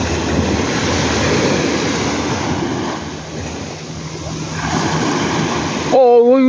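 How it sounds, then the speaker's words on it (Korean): Ocean waves surging onto the shore, a loud broad wash of surf and wind that swells and ebbs for several seconds, followed by a voice at the end. "위험해. 파도가 너 잡으려고 와."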